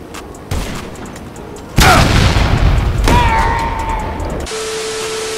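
Explosive rounds in GTA Online fire and strike a jet. A couple of loud booming blasts burst out in quick succession, followed by a hissing, whining tail and a steady tone.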